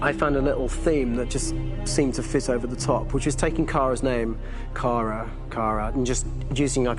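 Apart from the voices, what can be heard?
None of the usual background noises is heard.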